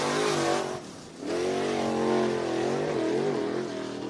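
A single race car screams around a dirt oval at Cottage Grove Speedway in Oregon on a qualifying lap, its engine loud and near with a steady high revving tone, a short lift as it enters a corner, then accelerating again.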